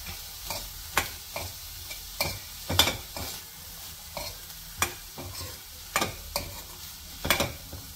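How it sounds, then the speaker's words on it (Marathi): Onion-tomato masala sautés in a pan while a spatula stirs and scrapes through it, giving a soft ongoing sizzle broken by about a dozen sharp scraping strokes at an irregular, unhurried rhythm. "हे थोडंसं सॉटे झाल्यानंतर त्यात आपण टाकणार आहोत पनीर"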